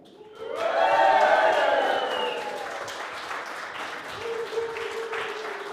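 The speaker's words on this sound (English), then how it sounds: "The crowds go wild." A crowd at a software release party applauds and cheers, loud clapping that swells quickly and then fades into lighter scattered claps, with a voice sounding briefly near the end.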